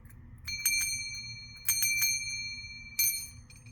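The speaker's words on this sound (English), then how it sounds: "Group number 3 is the pentacle bell." A small pentacle bell rings in three clusters of quick bright strikes, each ringing out briefly, over a faint low hum.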